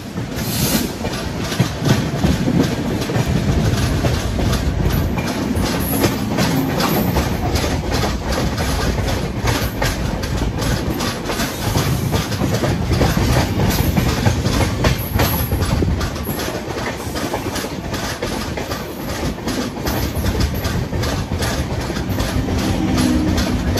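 Howrah Barbil Jan Shatabdi Express running at speed past Khirai railway station, a loud, continuous rumble of carriages with steady clickety-clack of wheels over rail joints throughout.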